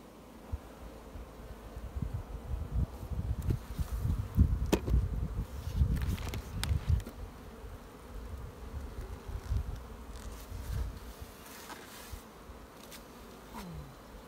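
Honeybees from a hive opened for a spring inspection buzz steadily at close range, a dense droning hum that swells and eases over the whole stretch, with a few brief louder passes near the microphone.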